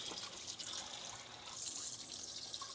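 Tap water runs steadily into a KitchenAid stand mixer bowl at a kitchen sink, rinsing out cookie dough with cinnamon and ginger, a continuous splashing hiss close by with no talk.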